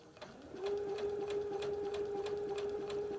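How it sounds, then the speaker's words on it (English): A Brother Innovis NV1100 sewing machine runs a straight stitch at steady speed, a quiet, even hum with a faint tonal whine and regular rapid needle ticks, heard close and alone. "I'm going to use the start stop button to just do a straight stitch"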